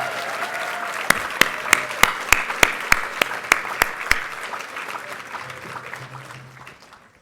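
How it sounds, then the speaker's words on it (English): Audience at a school reading event applauding, with sharp, evenly spaced claps over a crowd wash that gradually fade out toward the end, moderately distant. "Give them another round of applause."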